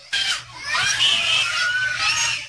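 A two-year-old girl screams in fear at an adult dressed as the Easter Bunny at a daycare, one long, loud, high-pitched wailing scream that lasts more than two seconds, with faint background noise.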